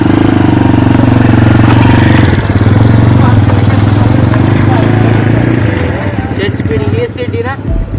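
A motorcycle engine runs loud and steady at high revs, holding a strong, continuous drone before easing slightly toward the end, with voices talking over it.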